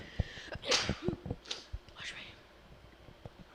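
A single sharp sneeze bursts out early at a high school baseball game, followed by faint rustling and a few soft clicks in a quiet setting.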